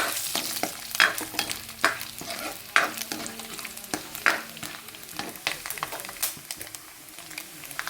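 Dried red chillies, cut into pieces, stirred and fried in a pan for beef curry with coconut bits, with a steady sizzle and repeated sharp scrapes of a spoon against the pan, close and clear.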